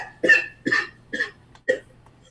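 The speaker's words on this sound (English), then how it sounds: "Not just a regular cough." Four separate coughs, close and fairly loud, each a short harsh burst with short gaps of quiet between them.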